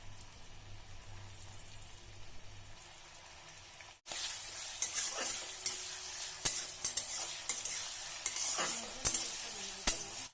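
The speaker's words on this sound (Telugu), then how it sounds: "ముందుగా కడాయి పెట్టి ఆయిల్ వేసుకుని వేడి అయిన తర్వాత కట్ చేసిన ఉల్లిపాయ టమాటా ముక్కల్ని వేసుకొని 2 రెమ్మల కరివేపాకు కూడా వేద్దాం" Onion, tomato and curry leaves fry in hot oil in a kadai, a loud, steady, close sizzle with crackles and a few sharp stirring clinks. A quieter low hum comes before the frying starts.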